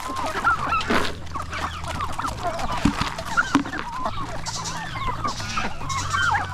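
Turkeys gobble and honk repeatedly alongside a rooster in a provincial poultry yard, a busy overlapping chorus of calls and clucks at close to mid range, with no one speaking.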